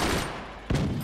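Cannon shots fire in the Forts video game, heard as two heavy broadband bursts, the second sharp and loud, with a rumbling barrage between them.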